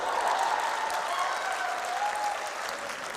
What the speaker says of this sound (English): Clap for yourself for looking like that.